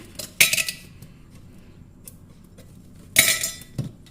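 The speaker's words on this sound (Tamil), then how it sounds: "டம்ளரில் வந்து ஒரு 3 ஐஸ் க்யூப்ஸ் போட்டுக்கிறேன்." Three ice cubes dropped into a glass tumbler, two separate clattering clinks a few seconds apart with a faint tap in between, close and clear with no talk.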